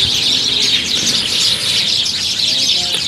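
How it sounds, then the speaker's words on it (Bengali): Birds chirp and twitter among trees in the early morning, a dense, continuous chorus of overlapping calls that is loud and close, with no voices. "তারা সকালবেলা ফজর নামাজের সময় কিচিরমিচির শব্দ করে।"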